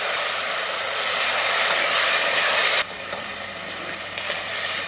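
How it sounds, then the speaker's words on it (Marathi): Tomato paste frying in oil in a pan for chicken curry, a steady close sizzle that drops in level partway through and continues more softly. "टोमॅटोची पेस्ट सुद्धा मी 2 ते 3 मिनिटं चांगली परतून घेणार आहे"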